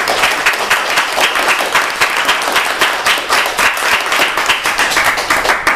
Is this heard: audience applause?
yes